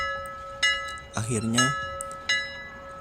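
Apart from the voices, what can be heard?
doorbell ringing, sound effect in creepypasta narration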